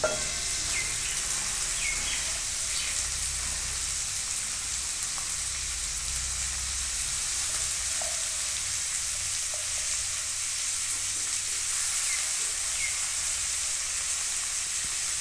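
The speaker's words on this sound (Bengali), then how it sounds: "এখন আমি মোচাটা একটু মশলার সঙ্গে ভেজে নেব।" Boiled banana flower fries with cumin and spices in a pan, giving a steady close sizzle with occasional crackles and pops, alone throughout.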